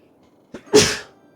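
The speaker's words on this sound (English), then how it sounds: "Oh, I want to sneeze again." A single sharp sneeze, close and loud, preceded by a quick intake of breath, then quiet.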